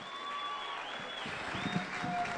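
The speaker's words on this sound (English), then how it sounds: "Let's give him a round of applause, ladies and gentlemen." Applause at a church memorial service for Archbishop Ezekiel Guti as Pastor Paul Keshner steps up to testify, a soft, steady wash of clapping with faint sustained tones above it.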